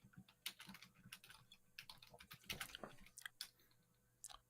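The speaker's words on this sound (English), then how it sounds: "Sorry, I'm typing a thing." Fingers tap quickly and unevenly on a computer keyboard, a steady patter of soft clicks with brief pauses, close and fairly quiet, no voices over it.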